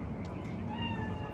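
A cat meows in the video game Cyberpunk 2077, one drawn-out, rising and falling cry heard fairly faintly over a low background hum.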